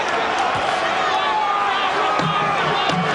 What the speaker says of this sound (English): The crowd is on their feet here at the convention hall.